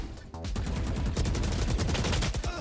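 A rapid burst of close, loud gunfire from the tactical shooter Valorant rattles continuously for about two seconds, the shots densely packed in a sustained automatic stream.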